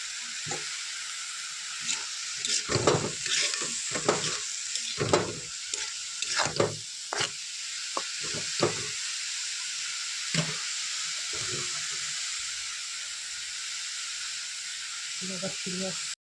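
Fenugreek greens fry in a pan with a steady hiss, broken by scraping stir strokes in the first half before the sizzle settles into an even background; no one speaks over it.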